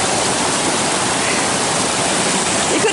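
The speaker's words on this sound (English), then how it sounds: "There's the first crossing of Chip Creek." Chip Creek rushing past a trail crossing amid lingering snow, a dense, steady roar of flowing water heard up close and unbroken, with no voices.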